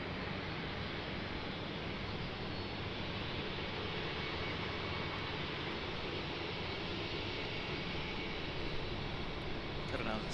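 A Southwest airliner taxis or rolls for departure at Raleigh-Durham International Airport, its jet engines producing a steady, broad roar that holds at an even level throughout.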